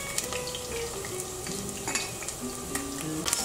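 Onion frying in oil in a pan for an eggplant stew, a steady close sizzle with scattered clinks and stirring scrapes against the pan.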